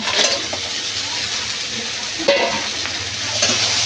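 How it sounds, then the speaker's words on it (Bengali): Crab pieces are stirred with masala in a pan as the spice paste is cooked down, giving a steady close sizzle with occasional utensil scrapes and clinks throughout. "এই ক্যাকড়ার সাথে মশলাটা দিয়ে ভালো করে কষিয়ে নেব"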